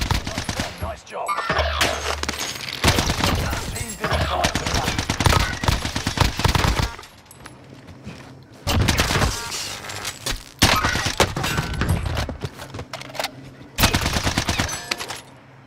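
Loud, close gunfire in a shooter video game, long sustained automatic bursts broken by brief pauses, with a few voices talking faintly over the shooting.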